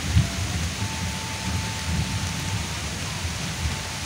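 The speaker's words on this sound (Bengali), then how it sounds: "এই যে বৃষ্টি ইতিমধ্যে শুরু হয়ে গেছে" Steady rain falls on a rural Bangladeshi village as an even, close wash of patter and hiss, with soft low rumbling underneath and no voices.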